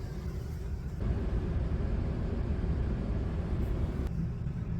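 A car engine idles at a truck stop in freezing South Dakota, a steady low rumble droning continuously, close and fairly loud, with a slight rise in intensity after the first second.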